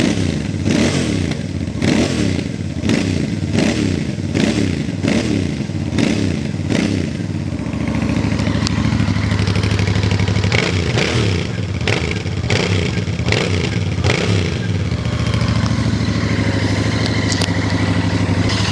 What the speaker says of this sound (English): Now that is an absolutely fabulous sound. I love the sound of that.